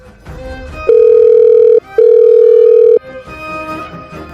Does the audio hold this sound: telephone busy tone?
yes